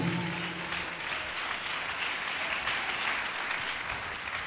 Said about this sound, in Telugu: అందరు చప్పట్లు కొట్టి దేవుని మహిమ పరుద్దాం గట్టిగా